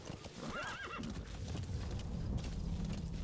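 A horse in the video game Metal Gear Solid V whinnies once with a rising, wavering neigh while hooves clip-clop steadily underneath, moderately quiet against a busy game background.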